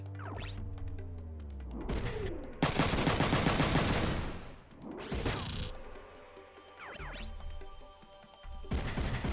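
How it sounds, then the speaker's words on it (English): Mech gunfire in the tactical game Front Mission 3, heard as loud bursts of rapid shots around the three- and five-second marks, with sharper single reports near the start and end over a steady game-music backdrop. "I guess Ryogo may as well shoot that guy"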